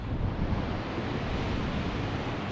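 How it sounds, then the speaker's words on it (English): Ocean surf rolls in along the Lower Yorke Peninsula coast, a broad continuous wash of breaking waves mixed with gusty wind buffeting the microphone. "Some nice waves rolling in."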